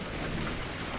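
A storm in a Hindi children's cartoon: a steady, dense wash of heavy rain with a low thunder rumble underneath, loud and close for about a second.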